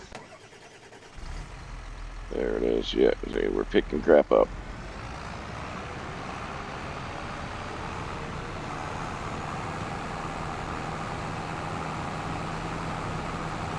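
Tractor engine in a farming video game cranks over with a few loud uneven bursts, then settles into a steady low running drone that continues to the end, with someone talking briefly over the start.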